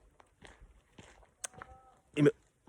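Cows moo several times outdoors, each call low and drawn out, with a louder, closer moo near the end and a faint voice speaking in between.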